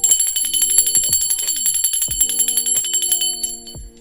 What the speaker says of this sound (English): I'm going to ring my bell for my spirit guides, guardian angels, and ancestors